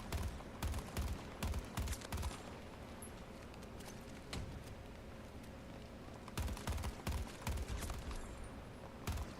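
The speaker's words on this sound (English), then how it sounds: "Forgot this was burst fire." Short bursts of gunfire from a burst-fire weapon in the Battlefield 6 video game, loud and close, in clustered volleys with pauses between, over a busy combat background.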